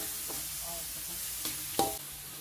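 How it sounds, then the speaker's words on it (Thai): Minced pork being stir-fried in a pan for a pickled bamboo shoot and red curry stir-fry, with a steady soft sizzle and a few sharp scrapes and clanks of the spatula against the pan. "ผัดไปจนหมูสับเริ่มสุกแล้วนะครับ"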